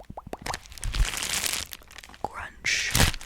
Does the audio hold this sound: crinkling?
yes